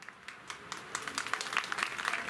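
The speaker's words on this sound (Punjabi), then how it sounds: "ਮਾਰੋ ਤਾਲੀਆਂ ਜ਼ੋਰ ਦੇ ਨਾਲ" A church congregation claps during a Sunday sermon, a scattered burst of handclaps that builds into fuller, brighter applause, moderately loud and without speech.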